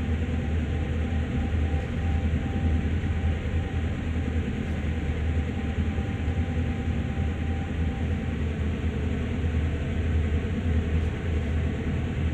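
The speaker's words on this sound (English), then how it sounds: "It's the lovely sounds of the engine coming to life." A train engine in Train Sim World rumbles in a steady, loud low drone with constant mechanical churning and no voices, climbing a slight grade near Oak Point Yard.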